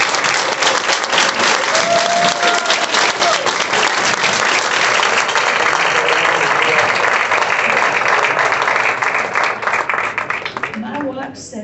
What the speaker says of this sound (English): could we have a round of applause for this show?